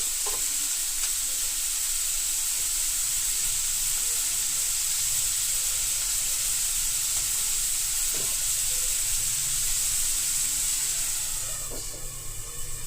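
Ivy gourd pieces with cumin cook in a pan, giving a steady, loud sizzle and hiss that runs unbroken from start to end, with a few soft clicks of stirring and no talk.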